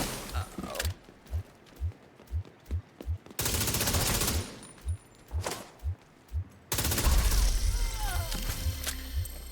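Video game gunfire in rapid bursts: a run of sharp, evenly spaced shots, then a loud sustained stretch, another run of single shots and a final heavy burst, all close and punchy.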